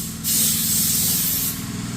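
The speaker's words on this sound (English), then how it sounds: "we'll probably just hit it with some rattle can black" A rattle can of black spray paint gives one close, loud hissing burst of about a second and a half, then cuts off.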